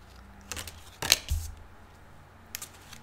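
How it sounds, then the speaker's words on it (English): A tarot deck is shuffled by hand in a few short, crisp riffling bursts, the loudest in the middle, separated by quiet pauses. "please skip the shuffling if you don't like it"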